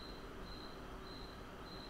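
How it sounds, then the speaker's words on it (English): Crickets chirping in faint, evenly spaced high trills that repeat in a steady rhythm over a quiet background hiss, with no talk. "Crickets."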